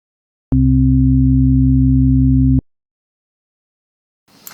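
Three steady test tones recorded together sound as one flat, unwavering hum that starts abruptly, holds for about two seconds and stops cleanly, followed by silence and a brief faint noise at the very end.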